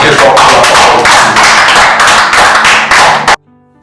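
A church congregation applauds loudly, with rapid clapping in rhythmic waves and a few heavier beats, then cuts off abruptly to near silence.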